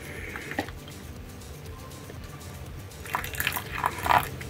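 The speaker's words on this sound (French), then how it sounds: "Je vais même remettre peut-être un petit peu d'eau là pour le dernier." A little water poured into a jar while preparing an infusion, soft trickling and dripping that builds into a brief splashy run near the end, close and fairly quiet.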